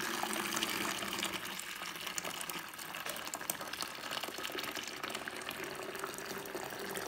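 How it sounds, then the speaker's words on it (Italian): Boiling water pours steadily into a container, a continuous splashing gush with bubbling texture, close and fairly loud, with no voices. "Quindi versiamo l'acqua, esattamente 2 litri,"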